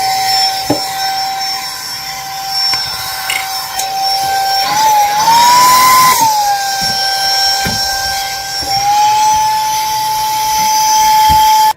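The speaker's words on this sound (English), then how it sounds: "this is a vacuum cleaner" A small handheld car vacuum and tire inflator combo whines steadily at a high pitch in vacuum mode, its tone rising briefly midway, over a rough airy rush and a few clicks.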